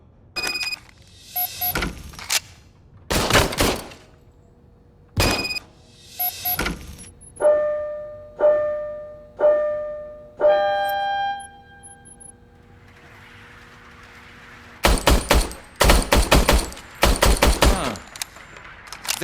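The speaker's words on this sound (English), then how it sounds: "I was issued this old gun and serviced it according to the manual." An old, poorly serviced service gun fired in sharp bursts of loud shots, interspersed with ringing mechanical tones, then a final rapid volley near the end.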